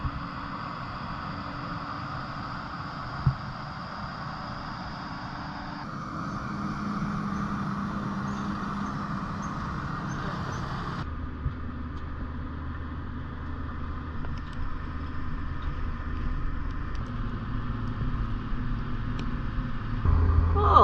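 A Case IH Puma tractor works a field while fertilizing, its engine a steady low drone heard from inside the cab, shifting in tone several times as the load changes.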